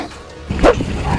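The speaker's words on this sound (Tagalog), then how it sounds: "May aso." A dog at a house in South Africa gives a single sharp bark close by, preceded by a brief low rustle, with a quieter yip-like tail after it.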